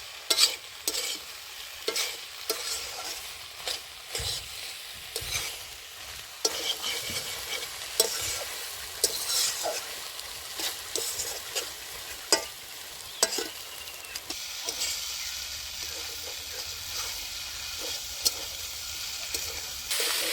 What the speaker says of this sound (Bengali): মশলা দিয়ে ভেজে ভালো করে ভাজা ভাজা হয়ে গেলে আমি নামিয়ে নেব